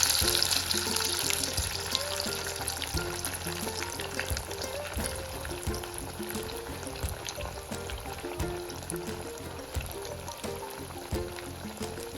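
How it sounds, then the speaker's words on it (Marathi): Continuous crackling sizzle of breadcrumb-coated potato bread rolls frying in hot oil, steady and close, with scattered pops throughout. "तेल आपलं गरम झालेलं आहे तळून देणार आहोत"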